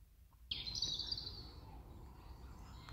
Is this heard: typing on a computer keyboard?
no